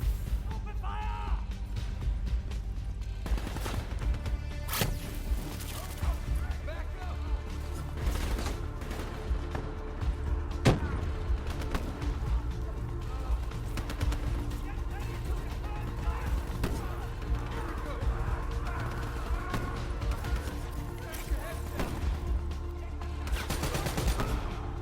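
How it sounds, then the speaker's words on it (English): Heavy gunfire crackles almost without pause, with dense bursts of automatic fire and sharp single shots stacked close together. It sounds near and loud, with shouting voices mixed in throughout. "Open fire!"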